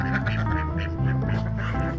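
Close, loud duck quacking comes in quick repeated bursts, a string of raspy calls running without pause.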